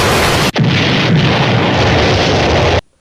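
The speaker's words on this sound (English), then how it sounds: "the Scotsman sets off another grenade and gets out just in time" A loud grenade explosion in a Samurai Jack cartoon erupts as a sharp blast followed by a sustained roaring, crackling rumble that cuts off abruptly after about two seconds.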